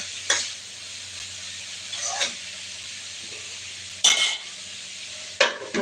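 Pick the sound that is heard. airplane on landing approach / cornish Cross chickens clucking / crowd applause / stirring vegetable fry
stirring vegetable fry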